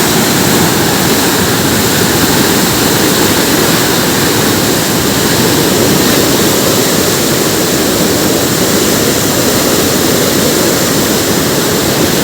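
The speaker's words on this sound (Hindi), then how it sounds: "पानी बहुत तेज़ होता है इधर" Fast-flowing river water rushing past, a loud, constant roar of turbulent current that stays close and unbroken for the whole stretch, with no voices.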